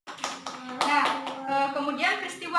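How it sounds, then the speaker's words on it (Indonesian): A classroom of students claps for a classmate, a short burst of hand claps mixed with children's voices and chatter. "Beri tepuk tangan juga untuk Cynthia."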